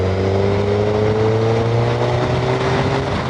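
A Suzuki Hayabusa motorcycle engine drones loudly and steadily as its pitch climbs smoothly while it accelerates from 80 km/h at 2500 rpm on an expressway.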